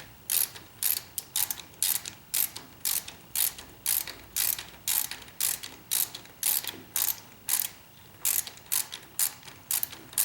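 Ratchet wrench tightening a front fender bolt on a Harley-Davidson 48 motorcycle, a rapid clicking pawl in about twenty evenly spaced bursts, close and crisp with no talking.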